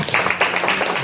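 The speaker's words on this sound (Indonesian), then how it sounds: "Baik, boleh tepuk tangan." A crowd at a Sunday morning religious gathering in Buleleng claps briefly on request, giving a short burst of dense applause.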